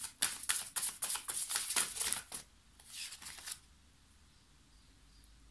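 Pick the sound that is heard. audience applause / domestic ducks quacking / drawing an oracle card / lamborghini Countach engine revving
drawing an oracle card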